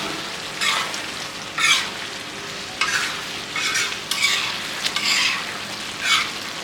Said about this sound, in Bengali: চিকেন মশলাটা দিয়ে দেবো এর উপর দিয়ে। হালকা করে নাড়িয়ে দিয়ে আবার ঢেকে দেবো